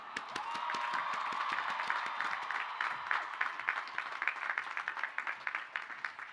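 Graduation audience at a Lehman College commencement applauding, a broad, dense wash of many hands clapping steadily throughout, loud and sustained with individual claps becoming more distinct toward the end.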